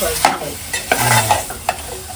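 Mustard seed tempering sizzles in hot oil for a fish curry, a close steady fry broken by several sharp pops and stirring clatters.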